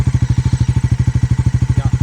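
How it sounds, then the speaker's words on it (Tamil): A Bajaj Pulsar NS400Z motorcycle idling in neutral, its exhaust giving a loud, close, steady fast thumping pulse with even regular beats throughout, heard at night and with no talk. "அதனால் இப்போ எக்ஸாஸ்ட் சவுண்ட் வந்து நைட்டில் கேட்டு பாருங்கள் எப்படி இருக்குது."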